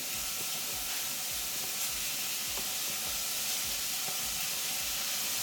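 About five seekh kebab skewers fry in oil in a frying pan, giving a steady, close, continuous sizzle and hiss with faint crackles throughout, no voices.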